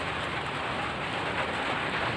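Steady rain pours down outdoors, a dense continuous hiss of drops drumming on surfaces, loud and even throughout with no voices.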